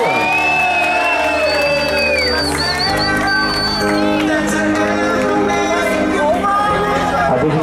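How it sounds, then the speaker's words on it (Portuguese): At a surprise birthday celebration in Tatuapé, a crowd cheers loudly for the honoree with shrill whoops and shouts rising over continuous excited hubbub, close and energetic throughout. "Uma salva de palmas para nossa homenageada."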